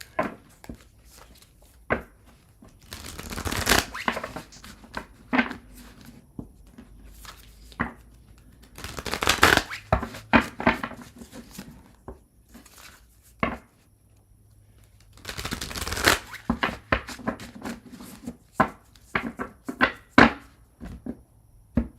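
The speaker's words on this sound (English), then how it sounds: "I'm going to shuffle and move on to Leo" A deck of tarot cards is shuffled close by in three short riffling bursts, separated by quieter taps and soft handling noises on a tabletop.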